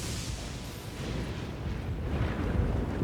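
A lightning strike in Elden Ring, a dense, sustained rumbling crash that roars loudly throughout and swells slightly toward the end.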